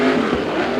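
A Chevy-powered 410 sprint car taking the green flag at a USAC oval race, its engine roaring loud and steady at close range.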